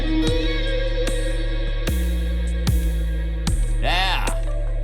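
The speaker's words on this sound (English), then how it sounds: "let's have it do like a really super, super long reverb" Repeated metallic clangs strike several times, each ringing out into a super long, shimmering reverb tail that piles up into a washy, wavering drone.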